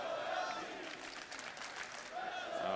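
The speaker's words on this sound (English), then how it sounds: "This crowd is definitely fantastic today." Esports crowd at a CS:GO match, a broad roar of cheering and applause swelling and easing over a few seconds, heard at a distance.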